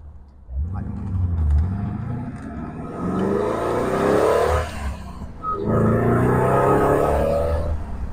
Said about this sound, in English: So you can hear those custom-made exhausts on this car